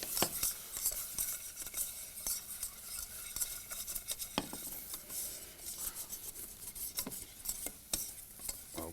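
A utensil stirs gravy in a pan with a soft sizzle underneath, with continuous close scraping and rubbing broken by frequent sharp metallic clicks against the pan.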